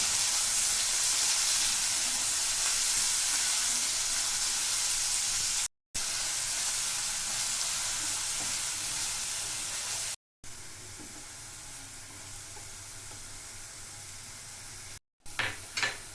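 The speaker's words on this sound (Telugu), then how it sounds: "హై ఫ్లేమ్లో పెట్టి ఉల్లిపాయ ముక్కలు కొద్దిసేపు వేయించాలి." Onion pieces fry in a pan over a high flame, giving a steady loud sizzle and hiss that is broken by a few brief silent gaps.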